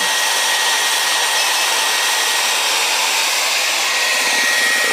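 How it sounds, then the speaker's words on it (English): A hair dryer running on an off-grid power setup blows steadily and loudly throughout, a constant airy whoosh with no talking. "The hair dryer is still running."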